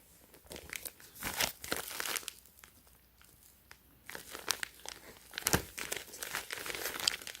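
A Supreme Ziploc plastic bag is handled and crinkled up close in repeated bursts of crisp crackling, with a short quieter pause midway and no talking.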